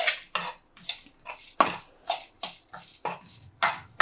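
A spoon mixes freshly grated wet coconut into dahi poha in a bowl, giving about eight rhythmic scraping, clinking strokes, close and fairly bright, with no talking.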